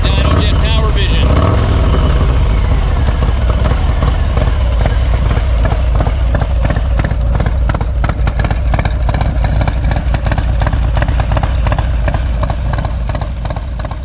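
Harley-Davidson Low Rider S with a Milwaukee-Eight engine revving loudly up close, a deep continuous rumble with repeated throttle blips and mechanical clatter throughout.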